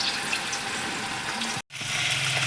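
A spice tempering sizzles loudly and steadily in hot oil for chicken curry, a dense crackling hiss broken by one brief dropout before it resumes.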